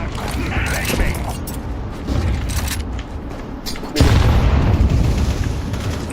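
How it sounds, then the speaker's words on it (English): A flashbang grenade goes off in Counter-Strike 2 amid a steady clatter of game noise, with a loud low thump near the end; players talk over it. "Flash out. Flashbang."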